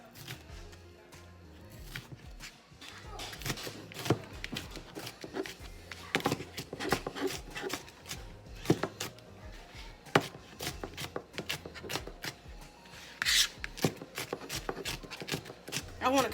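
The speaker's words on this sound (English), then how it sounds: "we're gonna get started on chopping our veggies" Rapid, uneven knife chops dicing a red bell pepper on a cutting board, dozens of sharp close taps in bursts, with occasional quiet talking in between.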